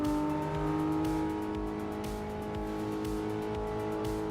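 A car engine drones steadily with tire noise in a racing video game played on a simulator rig, a loud, sustained tone with slight pitch shifts throughout, no voices.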